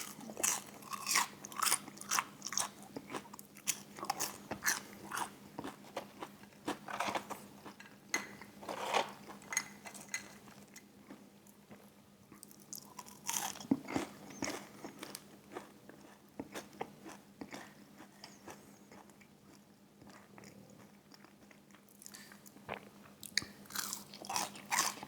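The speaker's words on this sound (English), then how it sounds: "I'm trying to eat the fries fast before they get bad" Someone quickly eating crispy fries with a spicy Korean barbecue fried chicken meal, giving a steady series of close, sharp bites and crunchy chewing sounds, fairly quiet, with no talking.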